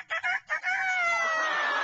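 A parrot mimics a rooster's crow: a few short choppy syllables, then one long drawn-out, slightly falling cock-a-doodle-doo, loud and close.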